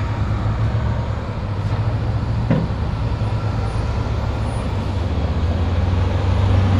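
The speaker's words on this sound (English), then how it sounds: "Big truck." A big truck passes on a road beside a bike commuter, with a steady low engine rumble and road noise that holds loud throughout and swells slightly toward the end.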